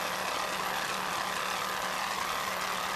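An offshore racing powerboat motor roars steadily with a broad, rushing drone during the 1993 Montauk Offshore Grand Prix, constant and fairly distant, with no voices.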